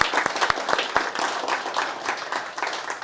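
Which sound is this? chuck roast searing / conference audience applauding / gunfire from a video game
conference audience applauding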